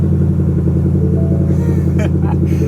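A 2021 Ford Mustang engine idles with a steady, throaty low rumble right after a cold start, with a few brief clicks and rattles on top.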